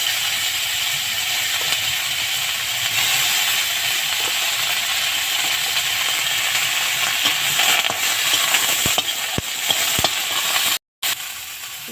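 Broccoli frying in hot oil in a home kitchen, a steady close sizzle with occasional stirring clicks and scrapes and a brief dropout near the end.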